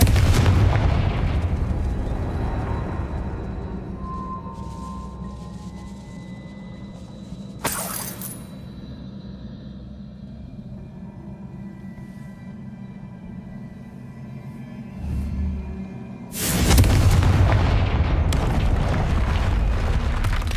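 Confringo spell blasts in the Hogwarts Legacy video game, cast at a troll: a deep continuous rumble with two sudden sharp explosive bursts, the second followed by a loud roaring boom.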